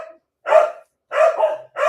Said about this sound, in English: I'm really sorry, the dogs are going crazy.